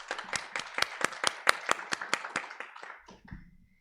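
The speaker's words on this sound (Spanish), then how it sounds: "Le damos un aplauso" Applause for a speaker at a book presentation: rhythmic, fairly sparse clapping from a small audience that fades out near the end.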